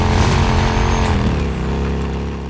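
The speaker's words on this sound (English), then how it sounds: "the growl of Deacon's motorcycle" Motorcycle engine in the video game Days Gone growls loudly and close, a thick harmonic drone that eases slightly in pitch and level toward the end, with no talk.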